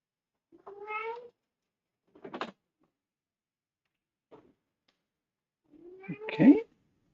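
A kitten meows several times indoors, with short high cries separated by silent pauses and a louder, drawn-out yowl at the end, close and alone.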